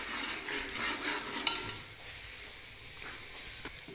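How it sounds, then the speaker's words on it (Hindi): Wheat flour roasting in hot ghee in a pan, stirred steadily: a soft scraping and gentle sizzle with a few sharper clinks of the spoon, close and moderately loud, with no voices. "अब इसमें डालेंगे हम 2 कप आटा गेहूं का, इसको साथ ही साथ चलाते रहेंगे"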